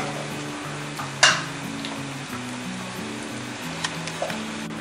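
A pressure cooker of dal makhani is lifted off a gas stove, giving one sharp metallic clank followed by a few faint knocks, all under steady background music.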